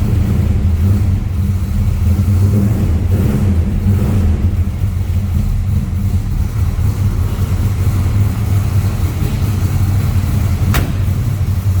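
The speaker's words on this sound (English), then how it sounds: "A little rumble coming out of that 383 stroker." A 383 stroker V8 in a 1957 Chevrolet 210 two-door post idles with a deep, steady rumble, loud and close, holding an even low throb throughout, with one faint click near the end.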